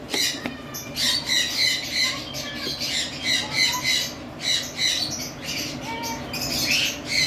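Repeated harsh squawks and shrill calls from several cockatiels, including breeding pairs, close and loud, coming in quick overlapping bursts.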